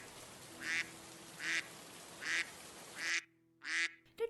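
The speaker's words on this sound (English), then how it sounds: "The ducks lead Peppa and her family back to their car." Ducks quacking in a children's story read aloud: five spaced, nasal quacks in a steady rhythm, fairly close, with a quiet pause before the last one.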